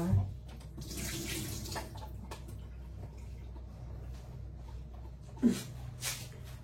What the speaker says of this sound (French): Je les rince encore.